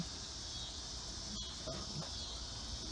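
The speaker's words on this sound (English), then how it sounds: "It's me and the cicadas." Cicadas buzzing in a garden in autumn, a steady high-pitched drone that holds unbroken, at a faint, distant level.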